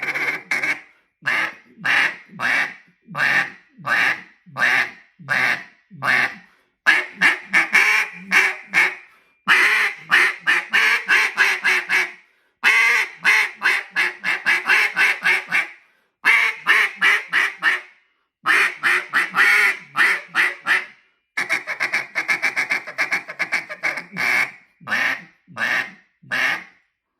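A duck call imitating a hen mallard's feed call, blown in rapid, raspy rolling bursts of quacking chatter, loud and close, with short pauses between runs and no voices.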